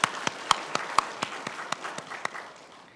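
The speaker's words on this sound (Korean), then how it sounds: "영광의 박수 올려드리겠습니다." Sparse, evenly spaced hand claps ring out in a church sanctuary after a choir's hymn, about a dozen distinct slaps over three seconds, moderately near and without talk.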